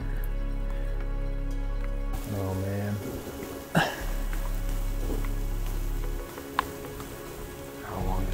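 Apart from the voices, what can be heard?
heavy rain falling outdoors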